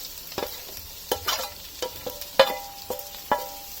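Hand-mashed potato filling for masala dosa is moved into a pan and stirred, producing a handful of distinct spoon knocks and scrapes over a quiet sizzle.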